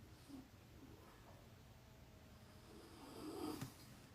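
A person snoring in a quiet room, very faint and distant, with soft breathing that swells into one raspy snort near the end.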